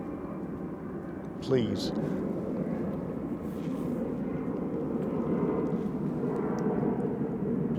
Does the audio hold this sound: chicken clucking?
no